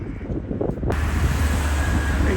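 Strong wind blows outdoors on a Sunday street near a bus stop in Germany, starting quieter and then becoming a loud, continuous roar of wind buffeting the microphone.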